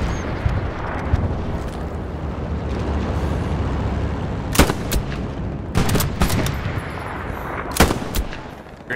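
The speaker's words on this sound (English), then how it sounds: "Machine gun right next to me" Machine gun firing close by in the Hell Let Loose World War II game, over a constant battlefield roar: several sharp bursts and single loud cracks in the second half, with no talk.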